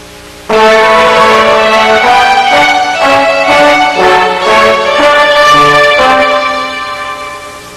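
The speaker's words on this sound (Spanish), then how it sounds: "Una sección de violines con acompañamiento de trombones suena así." Orchestral violin section with trombone accompaniment, a loud sustained passage starting after a short pause, bright string lines over changing low brass notes, fading slightly toward the close.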